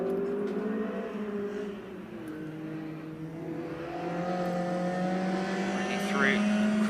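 A 205 GTI race car drives by on a circuit, its engine a steady drone with a slowly rising pitch over about seven seconds, and a commentator talks over it.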